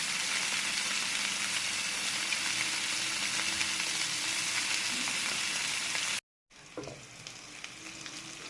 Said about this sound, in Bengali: তো ভেজে নিচ্ছি।